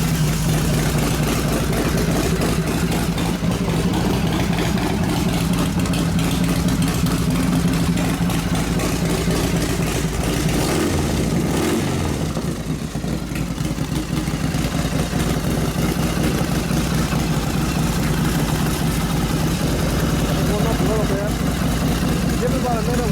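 A Harley FXR motorcycle engine idles steadily right after startup, a loud, close, low rumble that continues throughout with a brief dip midway.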